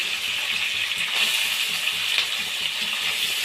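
Capsicum sizzling in a hot pan with peanuts and ginger-garlic paste, a steady close crackling fry with faint stirring clinks throughout.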